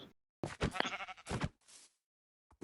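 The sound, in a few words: sheep bleating in Minecraft video game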